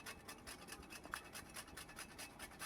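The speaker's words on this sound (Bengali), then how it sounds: "আমি এখানে হাফ মতন জায়ফল নিয়েছি এটা গ্রেটারের সাহায্যে আমি জাস্ট এটাকে ঘষে ঘষে একটু ক্রাশ করে দিয়ে দিচ্ছি" Half a nutmeg is rubbed against a grater in quick, even rasping strokes, faint and close, while mutton keema curry is being cooked.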